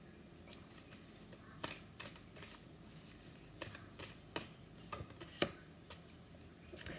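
Wild Unknown tarot cards are shuffled by hand, with soft riffling broken by sharp clicks and snaps at irregular intervals.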